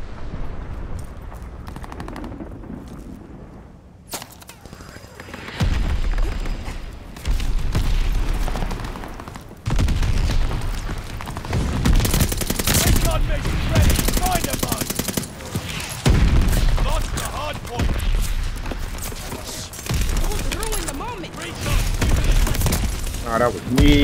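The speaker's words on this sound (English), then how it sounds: "They're sending mortar shells." Mortar shell blasts and gunfire in the video game Call of Duty: Vanguard, a dense run of booms and shots throughout a hard point match, with a player talking over much of it.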